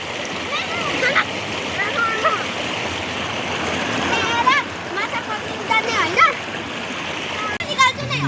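People playing in a river at New Year: continuous rushing stream water with repeated splashes and sloshes, while children and adults talk and call out nearby.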